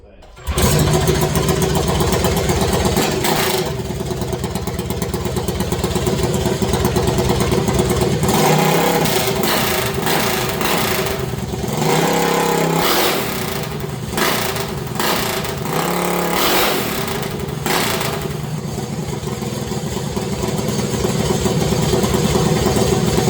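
A 224 motorcycle engine fitted with a Juggernaut stage 3 kit idles steadily up close in a shop, swelling into several loud revs before settling back to a rough, continuous idle.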